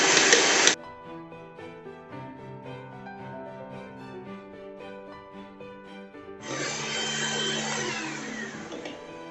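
Electric hand mixer beating butter and powdered sugar for a black forest cake, a loud whirring burst at the start, then a quieter steady hum with tonal ringing, before the motor whirs loudly again for the last few seconds.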